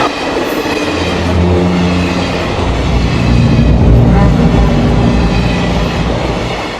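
A moving passenger train rumbles loudly and steadily throughout, with a dense low roar, broadband rattle and faint rhythmic wheel clatter close by, with no clear speech over it.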